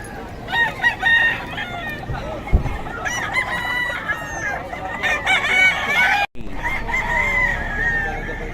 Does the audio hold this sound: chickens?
yes